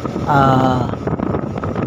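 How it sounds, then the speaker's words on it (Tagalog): Steady wind roars and rushes past a moving passenger vehicle at about 60, with a brief whistling tone early on over low engine rumble. "Di natin tinanggalan ng audio para madinig yung sipol ng hangin"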